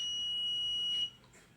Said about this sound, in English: fire is detected, and you can hear the buzzer sound